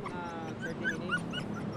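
Small dog carried by a woman boarding a crowded bus, giving short whimpering yips amid bustling background chatter and street noise.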